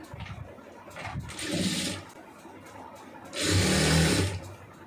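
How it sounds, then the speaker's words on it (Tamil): A sewing machine stitches the seam of a chudidar pant in two close, steady whirring runs of about a second each, separated by a quieter pause with faint background noise. "இப்போ இன்னொரு பக்கமும் நம்ம அதே மாதிரி தைச்சிடலாம்."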